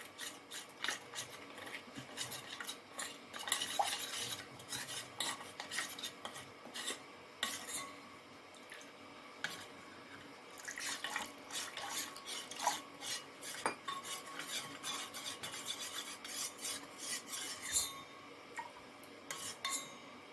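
A spoon stirs a cornflour and water slurry in a bowl, producing faint, close clinks and scraping rubs in irregular bursts with short pauses, no talking.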